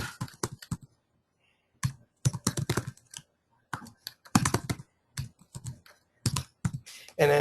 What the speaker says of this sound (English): then if you wanted to add another one, you put a comma and a space and just start typing that way too